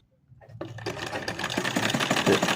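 After its nuts are tightened, a sewing machine starts from near silence and builds into fast, rhythmic stitching clatter that grows louder and steadier, heard close up with no talking.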